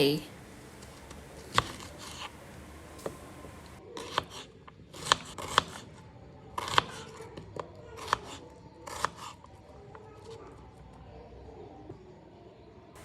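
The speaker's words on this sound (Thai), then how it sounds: "หั่นหอมใหญ่" Onion is chopped with a knife on a cutting board for daging goreng merah, giving crisp, close knocks that come singly and in quick clusters with short pauses between them.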